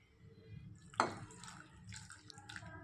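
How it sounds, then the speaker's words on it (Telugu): A tea glass of water is poured into a pressure cooker holding tomato, tamarind, chilli, turmeric and salt for rasam, a short splash and gurgle near the microphone, followed by quieter trickling and dripping. "అలాగే ఒక టీ గ్లాస్ అన్ని వాటరు"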